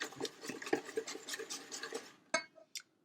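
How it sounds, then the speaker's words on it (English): Pumpkin pie filling is whisked briskly in a bowl, quick rhythmic scraping and tapping strokes at close range, ending with a couple of sharp clinks against the bowl's rim. "just whisk this up until it is all smooth and"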